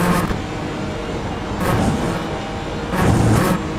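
A Mazda Miata's engine drones steadily in the iRacing sim during a four-hour production car endurance race at VIR, with periodic swells in loudness as the revs rise and fall.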